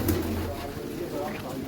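Soft pigeon cooing close by, a few low throaty coos, with some background murmur and movement.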